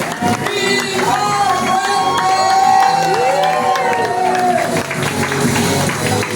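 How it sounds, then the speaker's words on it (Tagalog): An event audience claps and cheers for a company's founding partner, with whoops and shouted voices rising over steady applause that carries on throughout. "Milyon palakpak para sa isa sa founding partner ng Ascendra, Mr. Rocky"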